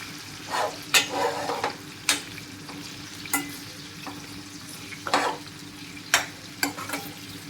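Plantain pieces fry in a pan for a spiced curry, a soft steady sizzle underneath with repeated sharp stirring scrapes and clinks at irregular intervals.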